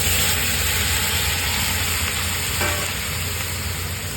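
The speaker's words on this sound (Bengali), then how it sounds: "এখন আমি সবজিটার মধ্যে জল দিয়ে দিচ্ছি।" Water poured over spiced vegetables frying in a pan, a dense continuous hiss and sizzle heard up close, with a brief clatter partway through, no voices.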